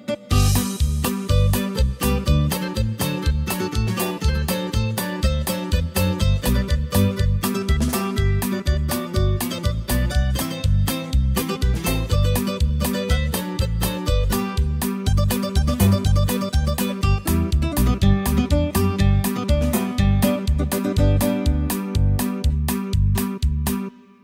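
A Korg Pa700 arranger keyboard plays a custom sampled rhythm, a dense, loud, steady beat with regular percussive hits and layered accompaniment continuing for the full stretch.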